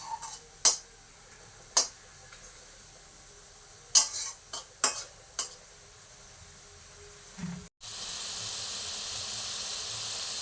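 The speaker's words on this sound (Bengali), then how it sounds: "মাংসটা একটু ভালো করে কষিয়ে নিই" Chicken meat for chow mein fries in a wok. A run of scattered sharp clicks and taps comes first, then a loud, steady sizzle bursts in and holds to the end.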